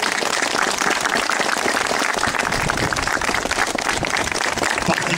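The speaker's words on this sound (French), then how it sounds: "on peut vraiment les applaudir très très fort" A school audience applauds loudly and steadily after a student and teacher performance, dense clapping continuing throughout with no talk.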